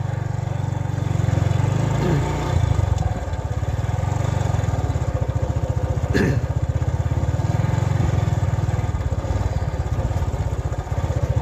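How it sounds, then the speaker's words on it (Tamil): A farm vehicle's engine runs steadily and loudly throughout with a low, pulsing drone, close by, as the vehicle gets moving along a field track; no one speaks over it. "சரி ஓகே ரெடி ஆகிடுச்சு வண்டி"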